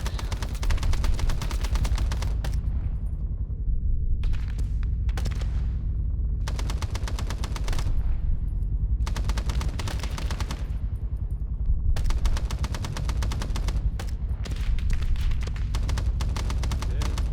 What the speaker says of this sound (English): Machine gunner, start suppressing that ZPU.